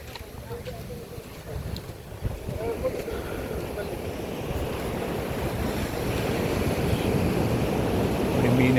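Sea surf breaking at Ullal beach in Mangalore, Karnataka, a steady broadband roar that slowly swells louder, with wind buffeting the microphone throughout.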